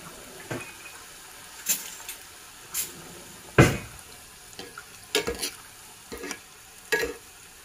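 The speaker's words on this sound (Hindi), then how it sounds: "तव्हांखे मीडियम फ्लेम ते रखी इहे कोफ्ता फ्राई करणा आहिनि" Paneer koftas fry slowly in oil over a medium flame, with a soft low sizzle broken by a series of sharp, irregular clinks and scrapes from turning them in the pan.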